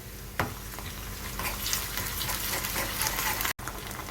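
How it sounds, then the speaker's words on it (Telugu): Onion pieces sizzle steadily in a hot pan as ginger garlic paste goes in for a soya chunk meal maker curry, a dense close frying hiss with a stir clatter near the start. "ఉల్లిపాయ ముక్కలు కొద్దిగా ఫ్రై అయిన తర్వాత ఇందులో అల్లం వెల్లుల్లి పేస్ట్"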